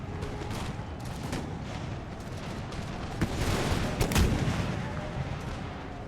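Cannon fire and musketry in an American Revolution video game battle, with a dense rumbling din of distant shots and a few sharper booms standing out midway.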